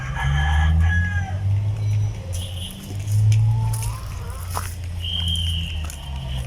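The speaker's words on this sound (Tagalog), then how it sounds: "Yan mga kaputak ko." Rhode Island Red and Plymouth hens cluck and fuss in a backyard flock, with a rooster's crow rising among the steady, near chorus of low clucks and soft scratching of feet.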